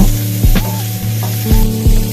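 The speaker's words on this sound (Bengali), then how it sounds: "তারপর বেগুনগুলোকে দিয়ে কিছুক্ষণ ভেজে নিয়ে সামান্য নুন আর হলুদ গুঁড়ো দেব।" Eggplant sizzles loudly in hot oil while a spoon scrapes and knocks against the pan several times.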